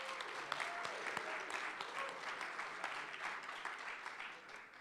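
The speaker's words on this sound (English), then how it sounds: "Clap it up." A gala crowd claps steadily throughout, the applause soft and somewhat distant, with a few sharper individual claps standing out from the even wash.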